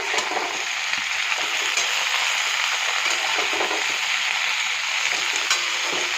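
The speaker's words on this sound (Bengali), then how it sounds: "আগে বেগুন, আলু আর শিমটা ভালো করে ভেজে নিচ্ছি।" Eggplant, potato and flat beans fry in a hot pan, a steady close sizzle of crackling oil with occasional stirring scrapes throughout, no voices.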